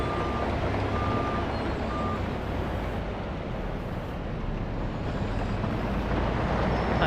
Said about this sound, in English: I plan to use the dump truck to try to backfill stuff